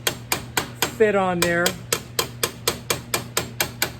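Sheet metal hammered over a dolly while forming a bell shape: sharp, evenly spaced metallic blows at a steady rhythm, close and loud, with someone speaking briefly between strikes.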